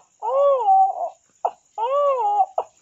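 A voice imitates a child crying: two long, wavering wails, each followed by a short sharp catch of breath, close and fairly loud against silence.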